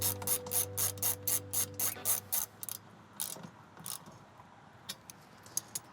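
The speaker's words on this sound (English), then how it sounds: "we have these 2 set screws right here. And once we tighten these down" Rapid metallic ratcheting as two set screws are tightened on an undermount SUP rack tube, a fast even run of clicks that breaks into sparser, irregular ticks and rubs, close up with no talking.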